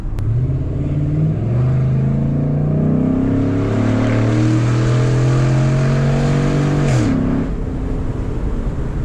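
A 2014 Ford SVT Raptor revs up through the gears from inside the cab, engine pitch climbing steadily then dropping sharply at each upshift, with a snap on the final shift, loud and close.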